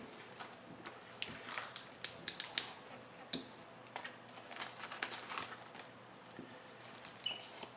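A knife cuts chunks off a roll of butter for Instant Pot curry goat, making a series of small, quiet clicks and soft scraping taps, irregular and close, with a cluster of sharper ticks partway through.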